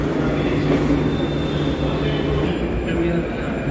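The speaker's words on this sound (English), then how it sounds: "I'm heading to the metro station" A Mumbai metro train at a station, heard as a loud, steady rumble of the rolling carriages with a faint squeal and hum running throughout, close and continuous.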